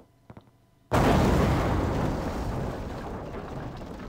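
A bomb goes off in the Nintendo 64 game The World Is Not Enough after brief quiet clicks, a sudden loud broadband blast that rolls on and slowly fades over several seconds.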